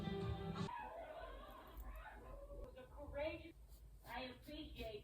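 A dog whimpers and gives short yips in a home, with a person talking over much of it at moderate loudness.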